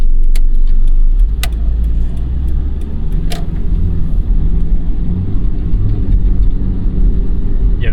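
A 1988 Mazda 323 with an automatic transmission drives with a loud, close engine rumble from inside the cabin, with rattles and clicks over the road noise and the engine tone shifting as the gears change.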